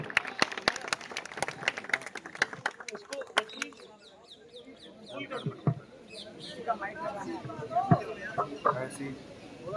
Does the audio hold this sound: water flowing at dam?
no